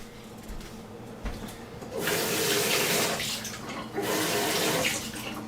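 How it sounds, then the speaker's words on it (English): Tap water runs over a Nutribullet blender lid in a sink, soft clatter at first, then two loud sustained gushes of rinsing with a short dip between, close and with no talking. "Just rinsing out the lid for the Nutribullet"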